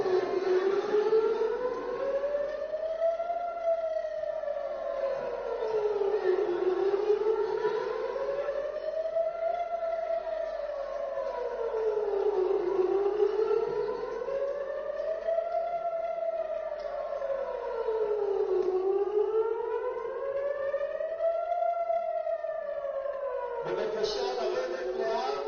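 An air raid siren wails over Hostage Square during an alert, its rising and falling tone cycling steadily about every six seconds, loud and continuous throughout.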